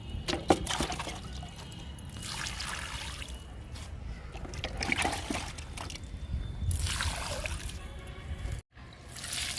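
Water is poured over drumstick plants in a home garden, close splashing and trickling that comes in several gushing bursts and ends with a brief cut, with no talking.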